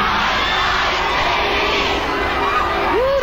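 Large crowd at a live rap concert on New Year's Eve 1991 in San Francisco, cheering, whooping and shouting loudly and continuously, with a few higher shrieks rising near the end.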